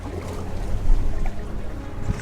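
A boat tossed by waves on the Atlantic Ocean gives a low, rolling wash of water and wind noise, close and continuous, with a brief heavier surge near the middle.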